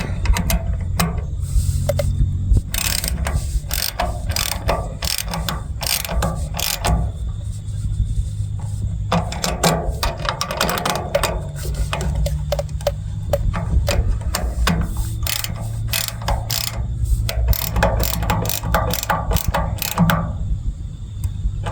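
A ratchet tightening plastic fasteners on a trailer being prepped, heard as a long run of quick, close clicking strokes in bursts with short pauses, over a steady low rumble.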